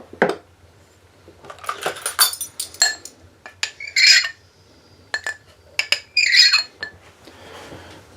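Baking ingredients being mixed in a bowl in a cabin kitchen, with irregular metallic clinks and scrapes of a utensil against the bowl, some louder clusters, close and without talk.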